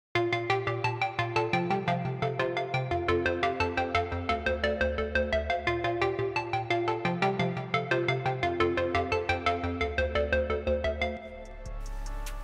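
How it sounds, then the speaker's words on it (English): A plucky Serum synth patch with a two-sine-wave filter and a filter envelope plays a steady, bright melodic riff over a deep bass line, with short repeated notes in an even rhythm throughout and a low sustained tone at the end. "two sine wave filter so it gets more plucky, and envelope on the filter effect so it sounds even more plucky"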